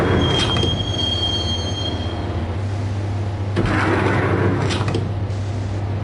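Subway train riding through the Roscoe Street line in the Max Payne video game, with a loud rumbling ride, high metallic wheel squeals at the start and bursts of clattering rail noise.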